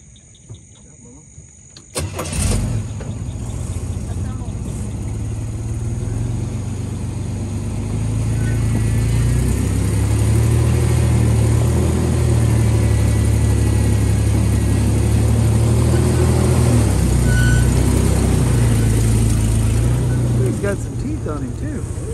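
A pickup engine starts and idles, then runs steadily louder as the vehicle drives across rural ground beside a ditch toward a downed wild boar. People talk over the engine.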